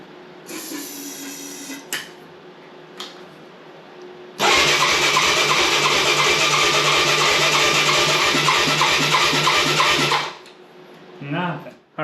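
A Yamaha Moto 4 200 ATV engine cranks on its electric starter after carburetor cleaner is sprayed in: a steady, loud, rhythmic churning that runs for about six seconds without catching, between quieter handling noises.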